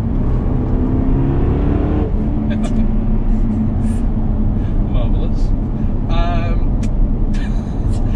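A Jaguar XKR-S engine revs and climbs through several gears, loud and close, with the pitch rising and dropping between shifts; someone briefly speaks.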